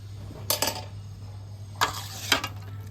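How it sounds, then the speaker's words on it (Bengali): A metal lid lifted off a pot of Bengali potato, pointed gourd and pumpkin curry, giving a few short clinks and scrapes in quick clusters, close and fairly quiet over a low steady hum. "এবার আমি ঢাকাটা খুলছি"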